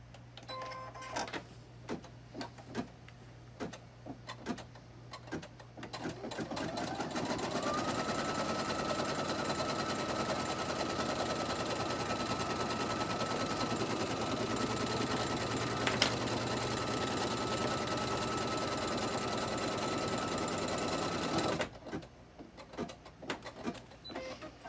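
An embroidery machine runs tack down stitches on a wall hanging, humming and ticking steadily at close range for about fifteen seconds, with intermittent clicks and handling noises before and after the run.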